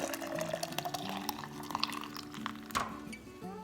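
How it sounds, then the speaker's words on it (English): Warm milk mixed with yogurt pours into 1.5 pint wide-mouth jars for Greek yogurt, a faint continuous liquid trickle and splash with a few soft clinks close by. "Then I pour it in my jars."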